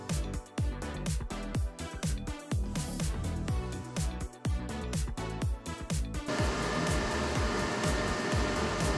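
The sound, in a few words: hair dryer running, 1000 watts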